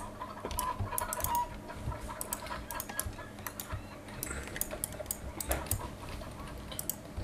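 Free-range chickens clucking in the online horse game Star Stable Online, soft clucks over a background of steady keyboard typing with a faint dog-like sound, continuous and moderately quiet.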